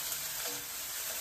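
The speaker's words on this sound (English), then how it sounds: "you can hear our onion is sizzling now" Onions sizzle and crackle steadily in a hot pan for a stir fry, a close, continuous hiss with no one speaking.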